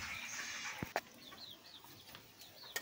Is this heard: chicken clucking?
yes